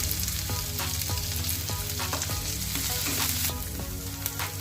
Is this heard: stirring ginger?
yes